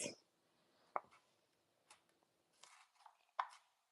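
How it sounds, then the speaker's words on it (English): A knife chopping green onions on a board, with a few sparse, quiet, separate cuts at irregular intervals. "chop up some green onions"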